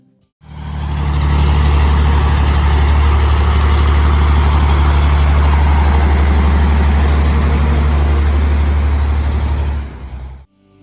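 A Soviet heavy 8x8 truck's 39-liter tank engine starts and runs with a deep, loud rumble, holding steady at idle for several seconds before cutting off abruptly.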